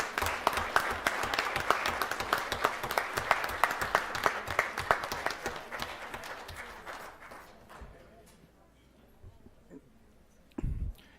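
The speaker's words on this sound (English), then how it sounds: "Let's give them one more round of applause." Applause from the audience at a St. George city council meeting, a crisp run of individual claps that thins and fades out after several seconds, leaving a quiet room with a few stray sounds and a brief thump at the end.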